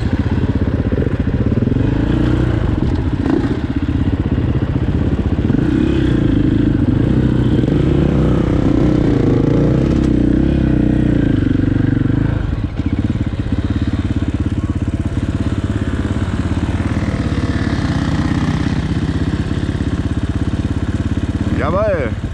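An enduro motorcycle rides through an open-pit mine, its engine close and loud with rough revving and throttle changes over uneven ground, running continuously for the whole stretch.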